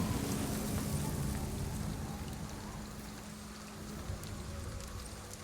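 Steady rainfall in the video game Ghostwire: Tokyo, a dense even patter with a faint low hum underneath, continuous with no talking.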